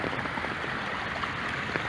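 Water flowing down a garden babbling brook makes a steady, close hiss and trickle, an even wash of sound with no talk over it.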